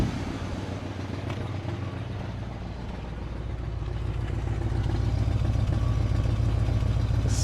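A 1971 Buick LeSabre Custom 455 V8 idles steadily while warming up, a continuous low rumble with a slight sputter through a clogged muffler, growing a little louder toward the end.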